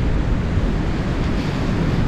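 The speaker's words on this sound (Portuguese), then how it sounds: "Tá ventando um pouquinho" Wind blows across the microphone at a fishing spot, a dense, steady roar that fills the short stretch with no voices.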